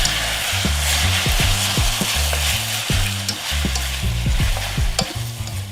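Mushrooms and fried tofu stir-frying in a pan for japchae, a loud continuous sizzle broken by frequent knocking and scraping of a spatula against the pan, with no voices.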